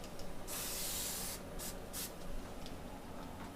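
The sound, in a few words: spraying lacquer thinner to clean paint spray gun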